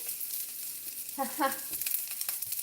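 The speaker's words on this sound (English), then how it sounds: "So now I just want to fry the onion." Onion and garlic frying in a pan over a lowered heat, with a soft steady sizzle that briefly swells louder in the middle, heard close by with no talking.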